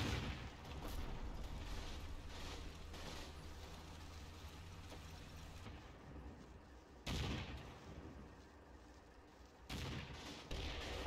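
Area fire from overwatch units in Combat Mission: Kampfgruppe Peiper, a low, distant rumble of shooting with two sharper reports standing out later, all fairly faint.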